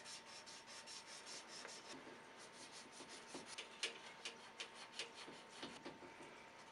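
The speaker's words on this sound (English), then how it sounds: "this is like emery cloth, I guess, is what they call it." Emery cloth rubs back and forth on copper pipe during an HVAC evaporator coil job, giving a soft, repeated scratchy scraping in quick strokes, fairly faint and close, with no talk.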